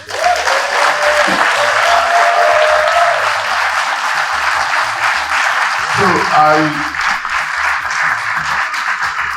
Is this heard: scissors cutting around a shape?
no